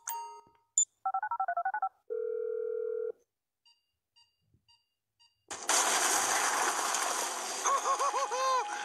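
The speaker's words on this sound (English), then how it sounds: "I'm making the call." A phone is dialed in Grand Theft Auto V: a beep, a quick run of keypad tones, then a steady tone and a few faint clicks, followed by loud noisy game sound.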